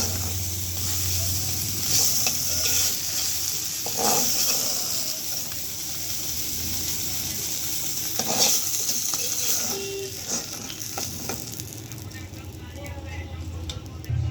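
Fish frying in a pan sizzles on under clinking and scraping of utensils, with some mechanical rattling, fading quieter toward the end.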